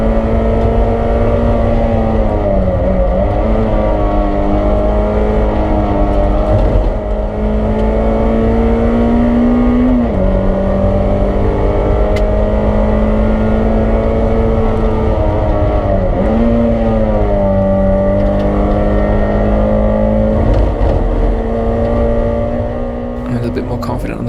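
In-car engine of a race car at Oulton Park during a BRSCC Clubsport Trophy race, loud and continuous, with pitch climbing through the gears and dropping at each upshift; a voice talks over it throughout.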